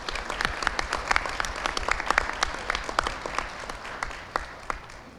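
An audience at a town inauguration ceremony claps in a warm, dense burst that holds steady, then thins and fades toward the end; many hands, moderately near.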